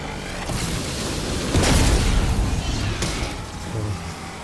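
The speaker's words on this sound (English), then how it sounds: "utilize the jet gun to see the damage that would occur when using the explosion feature" A jet gun explosion in Call of Duty Black Ops 6 Zombies gives a loud booming burst about a third of the way in, set over a continuous roaring, whooshing wash of game noise.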